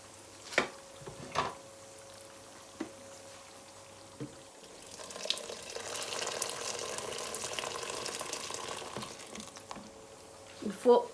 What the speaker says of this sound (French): je vais rajouter l'eau